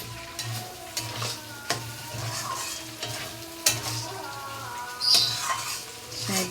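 Spice masala fries in oil in a pan, with tomato about to be added, for a curry made with a katla fish head. A steady soft sizzle is broken by occasional sharp utensil knocks and scrapes, with no speech.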